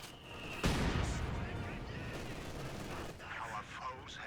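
Mortar strikes in a Company of Heroes 2 battle replay, a sudden loud blast followed by a long rumbling roar and scattered crackling impacts mixed with distant fire, with a voice talking over the din.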